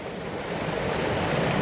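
Creek water sample shaken in a container, a steady loud rushing slosh that fills the whole moment without breaks.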